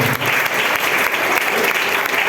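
A church congregation bursts into dense, continuous applause, loud and close, filling the whole short moment without any speech over it.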